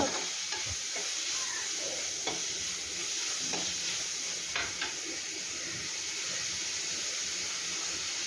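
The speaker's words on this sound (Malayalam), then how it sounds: "കുറച്ച് മഞ്ഞൾപ്പൊടി ഇട്ട് കൊടുക്കാം ആവശ്യത്തിന് ഉപ്പും ഇട്ട് കൊടുക്കുക നന്നായിട്ടൊന്ന് ഇളക്കുക" A spinach dish with turmeric and salt stirred in a pan, a steady hiss of frying underneath with a few soft scrapes of the spoon, close and continuous.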